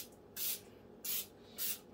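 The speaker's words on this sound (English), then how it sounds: "I'm going to put a light coat of nonstick spray on" Nonstick cooking spray hissing onto a waffle maker, three short even bursts close up in a quiet kitchen, each lasting about a quarter second.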